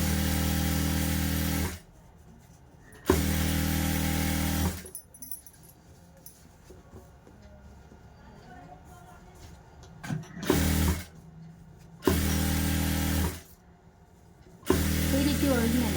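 Sewing machine stitching blouse fabric in bursts of steady, loud mechanical whirring, three separate runs broken by quieter gaps of fabric handling.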